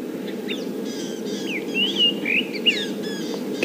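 Varied bird calls — chirps, whistles and rattling phrases from two drongos mimicking other birds — over a steady low rumble of background noise on a safari drive, moderately close.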